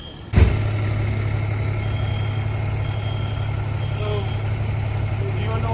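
A fire brigade truck idles at the scene of a fire alarm emergency, its engine a steady low drone that sets in right after a brief thump and holds unchanged throughout.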